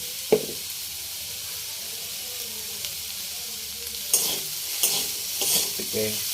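Peas and spices frying in oil for a samosa filling are stirred in a pan, a low steady sizzle with a few louder scraping stirs near the start and toward the end, with no talk.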